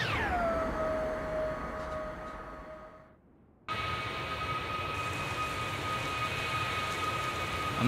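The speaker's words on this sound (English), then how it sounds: "And we have rain sounds because X-Plane's doing its thing for some reason." Steady hiss of rain in the X-Plane flight simulator around a FlightFactor 767-400ER, continuous and broadband with tonal engine whine, cutting out briefly midway before returning at the same level.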